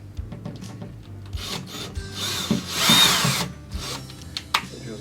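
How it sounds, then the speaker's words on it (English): A power drill drives a screw into a Tailormade Elements cutting table during assembly, with whirring bursts and a rising, grinding run in the middle before it stops, close and clear with no talk. "So you just put the second screw in, don't tighten up all the way"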